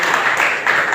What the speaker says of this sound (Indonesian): Tepuk tangan kita untuk